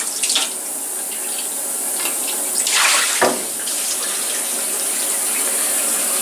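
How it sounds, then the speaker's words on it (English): Machining coolant pours and splashes back into a flood coolant tank, a steady watery gush with a louder surge midway, close and continuous. "I can dump this coolant back in here."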